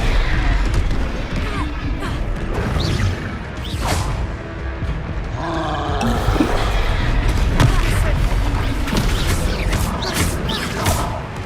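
Confringo fire spells blasting in the Hogwarts Legacy game, a run of booming thuds and crashes mixed with levitation spell effects and game music, under sporadic spoken spell names.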